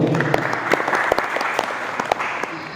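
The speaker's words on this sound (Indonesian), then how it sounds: "Tepuk tangan buat teman-teman semua." A seminar audience on youth entrepreneurship gives a short round of applause, a steady patter of many hands with a few sharper claps poking through, fading slightly by the end.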